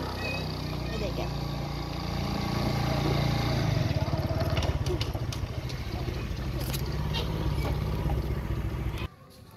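A motorcycle arriving at a village home in Dhanote runs with a steady, close engine rumble that swells and then cuts off near the end, while people talk over it.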